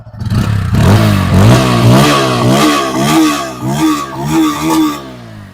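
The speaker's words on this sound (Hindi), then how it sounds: "तो साउंड जो है आपको ऐसी मिलेगी इन दोनों बाइकों में।" A Bajaj Pulsar N160 motorcycle engine starts up and revs several times in a row, rising and falling in pitch, loud and close.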